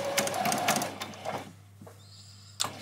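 A sewing machine runs straight across small doll's dress bodice pieces in quick mechanical bursts, close up, then stops before a brief final whir, with no talking.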